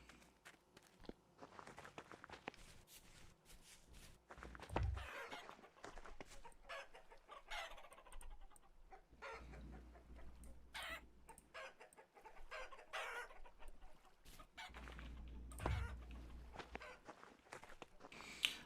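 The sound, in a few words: chickens clucking in Vintage Story video game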